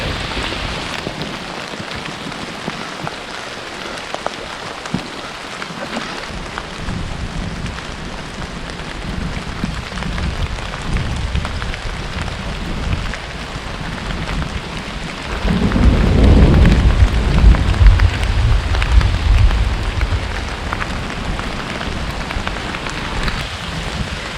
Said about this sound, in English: Heavy, heavy rain, strong winds.